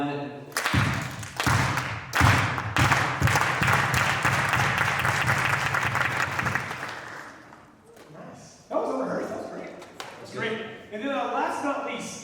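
An audience at a live event in a hall breaks into loud applause, clapping densely for several seconds before it fades and a voice speaks again over the room.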